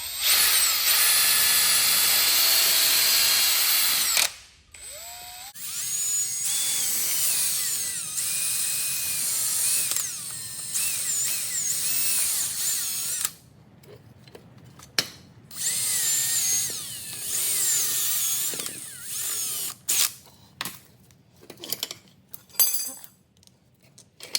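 A high-pitched electric drill with a long 1/8-inch bit whines close by, running in long stretches with brief stops and pitch changes as it bites.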